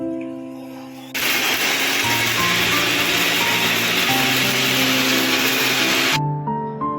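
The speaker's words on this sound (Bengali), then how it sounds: "ঠান্ডা করে মিক্সিতে ভালো করে গুঁড়ো করে নেব।" A mixer grinder runs for about five seconds grinding roasted spices, a loud whirring roar that starts abruptly and cuts off, with quieter kitchen hum before and after.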